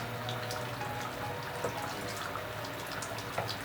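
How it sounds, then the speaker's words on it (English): Jamaican curry goat in thick gravy simmers in a pot, giving a steady, close, wet bubbling and hissing texture throughout with no talking. "My curry goat, bubbling and ready."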